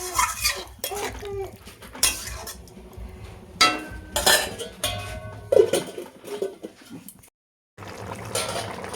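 A lid clatters onto a cooking pot of half-boiled stem vegetables, with several sharp metallic knocks and scrapes of cookware close by, followed by a short silence.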